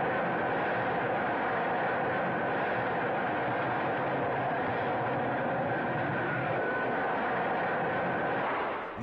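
Harrier II jump jet, the later Royal Air Force version, giving a steady, broad roaring jet noise that holds at an even level throughout, with no talk.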